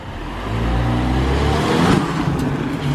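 A Lexus RC200T turbo engine fitted with an Injen cold air intake with an open filter revs up from a low idle rumble into a loud, rising intake roar, close by with no talking.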